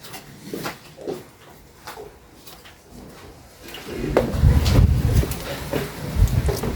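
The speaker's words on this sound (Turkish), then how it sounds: "Rüzgara bakın ha." Gusty wind buffets the microphone, growing louder and rougher halfway through into a strong, sustained roar.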